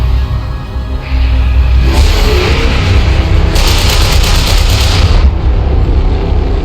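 A large explosion in XCOM 2 rolls out as a loud, sustained low rumble with a boomy shockwave that swells after the first second and stays heavy through the end.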